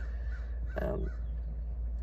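A single crow gives one short, harsh caw, fairly close and clear above a steady low hum, with no voices during it.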